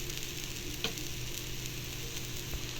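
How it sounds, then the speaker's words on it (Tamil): Oil poured around wheat adai batter on a pan sizzles in a soft, even hiss, faint and steady, with one small crackle partway through. "சுற்றியும் கொஞ்சம் எண்ணெய் ஊற்றிக்கலாம்"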